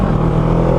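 A 2009 Kawasaki Ninja 650R with a Yoshimura TRC exhaust and silencer tip idles in a loud, steady, close drone with a low, throaty rumble. No one speaks.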